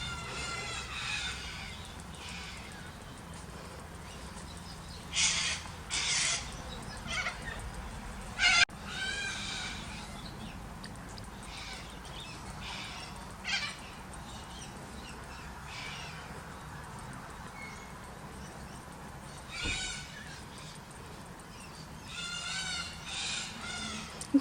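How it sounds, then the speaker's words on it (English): Cockatoos call outdoors with harsh, bright screeches in short bursts and clusters, some louder and nearer, others fainter, over a steady low background hum. "I hope those cockatoos aren't hurting your ears, but they're very beautiful."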